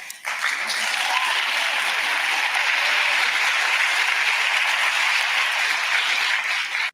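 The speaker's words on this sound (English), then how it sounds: "that nice little hand clapping that she got" An audience breaks into loud, sustained applause after a speech, a dense, even roar of clapping hands lasting around seven seconds before cutting off abruptly.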